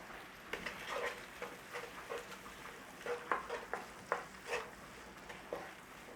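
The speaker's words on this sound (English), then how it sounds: "Little saute of the onion and garlic, or a little stir fry in English." Onion and garlic sauté in butter in a pan, with a soft steady sizzle broken by a series of close scraping stirs, and no talking over it.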